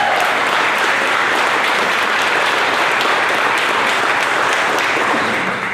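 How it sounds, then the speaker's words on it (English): Audience at a 2016 Corvette Dream Giveaway awards celebration breaks into sustained, dense applause honoring service members, loud and steady throughout before tapering slightly at the end. "Let's give all of them a round of applause."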